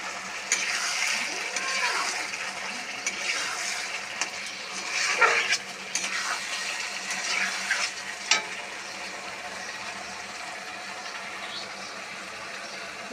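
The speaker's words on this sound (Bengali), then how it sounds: "কাঁচা লঙ্কাগুলো ছেড়ে দেওয়া হলো" Green chillies hit hot oil in a pan while sarputi river fish is cooked with mustard and poppy seed, giving a steady broadband sizzle with a few louder crackles, close and continuous throughout.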